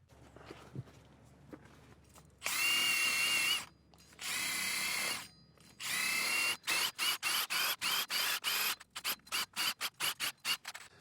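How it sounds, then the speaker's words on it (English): A hub scrub drill tool cleaning the rear wheel hub of a modern Subaru during a brake job: loud, close whirring bursts, two long runs followed by many short rapid pulses, with no talk. "We're still going to clean it up a little bit with our hub scrub or hub buddy."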